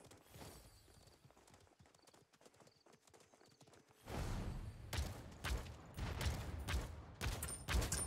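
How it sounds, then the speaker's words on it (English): Rapid hoof clip-clops of a horse in Realm Royale, quiet at first, then suddenly louder and closer with sharp repeated hoofbeats; no talking. "There's a horse behind me."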